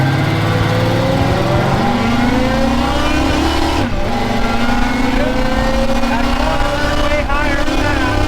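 A 1942 Chevy engine revs hard and accelerates, its loud rising roar climbing in pitch through several gear pulls and dropping briefly between them.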